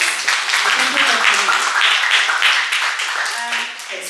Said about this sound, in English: Let's give us a round of applause for our panelists.